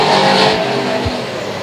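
Race cars roar loudly on the oval at Sauble Speedway as the green flag drops, engines accelerating hard in a steady, dense blare with a brief low whoosh of a car passing close.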